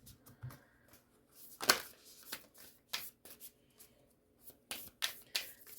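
Moonology Oracle cards being shuffled by hand in quick, crisp riffling bursts separated by short pauses, close and fairly quiet.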